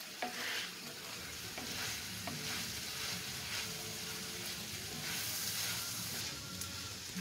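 Chopped onion sizzles steadily in a hot pan while being stirred, with continuous frying hiss and scraping stir strokes, close and moderately loud, no talk.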